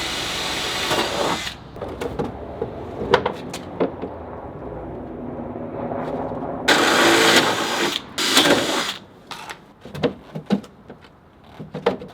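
Hand tools and power-tool bursts while bolting a front fender onto a 1967 Porsche 911R in a workshop, with intermittent clanks, ratcheting and a few louder whirring bursts over a quiet background.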